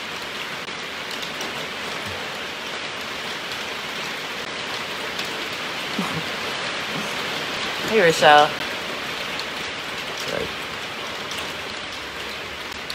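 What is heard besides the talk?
rain falling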